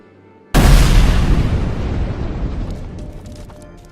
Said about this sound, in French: Black Phone c'est le téléphone qui lâche une explosion